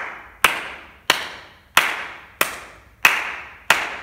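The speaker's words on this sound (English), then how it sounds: "So you start by clapping." Six sharp hand claps in a slow, even rhythm, each crisp and close with a brief room decay before the next, and no voices between them.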